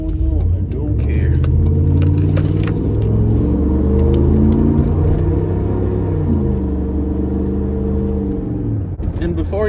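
Third-generation Ram truck driving at speed limit with a loud exhaust, a deep steady rumbling drone with slight revving swells, recorded from inside the cab while a person talks over it.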